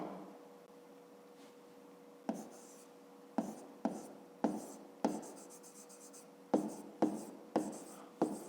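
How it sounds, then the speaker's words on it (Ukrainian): Handwriting on paper while working through a fifth-grade maths exercise: a quiet room hum, then a series of close, crisp pen strokes and taps arriving in short irregular bursts. "Записуємо тоді Котигорошко."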